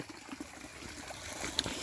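Water from a natural spring trickles down a small cascade, a faint, steady outdoor babble with a few brief splashes and no talk.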